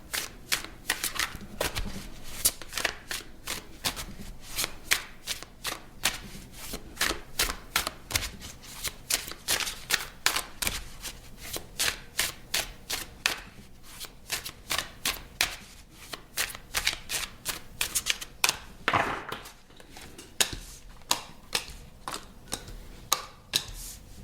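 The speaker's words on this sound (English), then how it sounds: "I'm going to clarify the cards and pull some advice." Tarot cards are shuffled continuously up close, a long rapid stream of crisp riffling flicks and soft taps with brief pauses, no voices.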